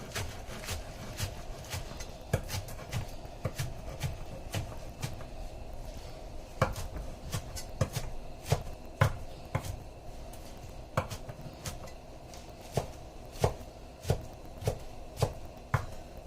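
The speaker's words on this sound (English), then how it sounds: "I actually prefer mine to be chopped up a little bit, just a rough chop" Rough chopping of ingredients with a knife on a cutting board for gnocchi soup, a steady run of sharp, close knocks at an uneven pace, loudest toward the end, over a low kitchen hum.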